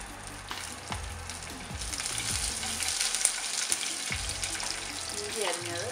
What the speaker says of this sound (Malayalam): ഇത് ബ്രൗൺ കളറാവുന്നത് വരെ വഴറ്റണം.